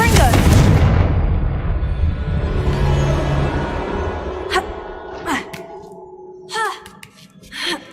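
A Confringo explosive spell blast in Hogwarts Legacy bursts loudly at the start and decays into a long rumble, followed by several short whooshing spell sounds and faint effects.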